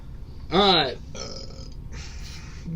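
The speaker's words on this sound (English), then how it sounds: "That's your burp right there." A single loud burp rises and falls in pitch, followed by quieter voices talking in the background.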